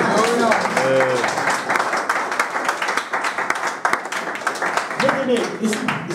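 A church congregation breaks into loud, sustained applause and cheering at a salvation meeting in Morocco, a dense wash of clapping that fills the whole stretch, with a preacher's voice rising above it near the start and again toward the end.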